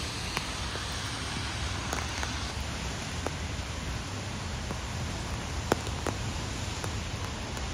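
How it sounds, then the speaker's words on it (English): Steady rain in San Ramon, California hisses in a constant wash of noise, with occasional sharper drops tapping nearby. "I can definitely hear it raining."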